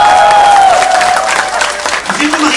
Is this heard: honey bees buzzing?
no